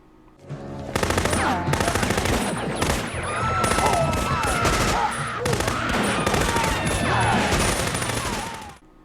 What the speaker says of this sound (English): The geography of the gunfights is a mess.